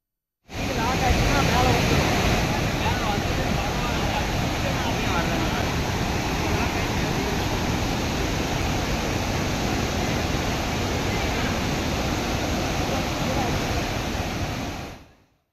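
Loud, continuous rushing water roars steadily, a broad churning wash of flash-flood rainwater through a stream near Sathyamangalam, Erode district, Tamil Nadu, without letup until it cuts off.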